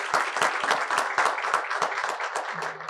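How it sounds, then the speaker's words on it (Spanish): An audience at a Dominican Republic public policy forum applauds a researcher with brisk, rhythmic clapping that stays loud and even before tapering slightly at the end. "Flor Batista Polo, para la cual pido un fuerte aplauso"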